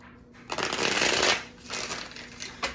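A Destined Oracle card deck shuffled close up, a steady papery riffling swell that rises, eases, then picks up again in short bursts, with no talking.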